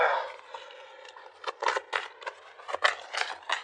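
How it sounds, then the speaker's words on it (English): Tarot cards shuffled by hand, close up: a series of quick papery riffles and slaps with irregular bursts, fairly faint, and no talk over them. "I'm just so used to like shuffling right here close to my chest"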